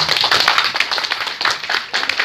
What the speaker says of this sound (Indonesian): beri tepuk tangan Bu Pak